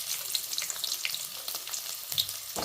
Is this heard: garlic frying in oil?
yes